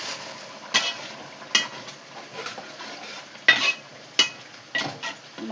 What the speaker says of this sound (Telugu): ఇందులో ఒక 3 గుడ్లు వేస్తున్నాను.